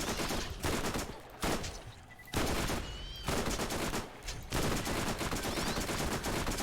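A gun fired from the hip in Borderlands pours out long bursts of rapid automatic shots, loud and close, with a few brief pauses between the strings of fire.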